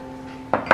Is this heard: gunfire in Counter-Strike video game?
no